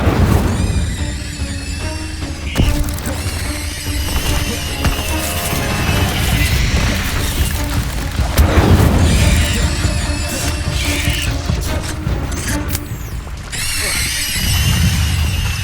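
Incendio fire spells cast again and again in the video game Hogwarts Legacy, each giving a whooshing burst over busy combat clatter and impacts, loud and layered with music and talk.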